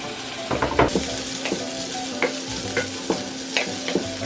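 Chopped tomatoes and other curry ingredients are stir-fried in a hot pan, with a busy sizzle broken by a regular series of spatula scrapes and clinks against the pan, close and fairly loud with no talking.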